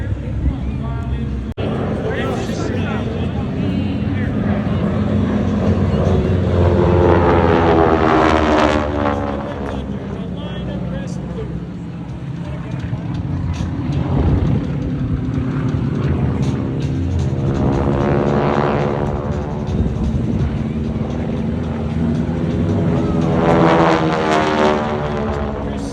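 Propeller aircraft fly in formation at an air show in Leesburg, Virginia, their engines droning loudly and steadily with rising and falling sweeps as they pass, while a commentator talks over the sound throughout.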